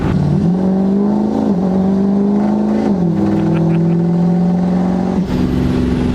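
Powerstroke diesel truck accelerating hard on a street, a loud close engine roar climbing in pitch through several gear shifts, each marked by a brief dip before the rising drone resumes.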